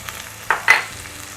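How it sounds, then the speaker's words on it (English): Garlic dropped into a hot pan where chicken has been cooking, a brief stir and a rising sizzle in two quick bursts over low background frying. "I'm adding in my garlic"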